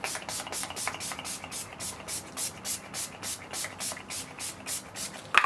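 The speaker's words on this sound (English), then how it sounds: "I'm going to just set my makeup in place using the Urban Decay All Nighter setting spray" Rapid, repeated hissing spritzes of Urban Decay All Nighter makeup setting spray, about a dozen short bursts in a steady rhythm, close and fairly soft.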